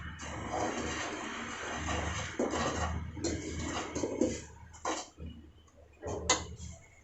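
Jaggery syrup with cardamom powder stirred in a pan for coconut laddu, the spoon clattering and scraping against metal in steady bursts, fairly close, with no talk.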